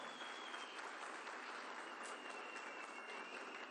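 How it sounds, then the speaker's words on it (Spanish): Steady, fairly faint applause from a crowd at a national assembly of the Afro-Bolivian people, honouring President Luis Arce Catacora, an even wash of clapping with no gaps. "Así que los aplausos para nuestro hermano presidente Luis Arce Catacora."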